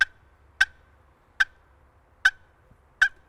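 Five sharp, short clucks from a turkey box call, spaced unevenly and heard close in near silence.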